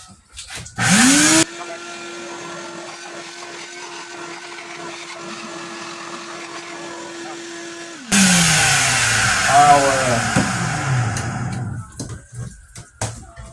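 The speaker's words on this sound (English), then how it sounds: "I'm gonna run the vacuum across that real quick" A vacuum cleaner works over the engine area of a Dodge Durango. A loud motor spins up to a steady whine, then cuts off, and a louder roar follows with shifting pitch as it sweeps, then winds down.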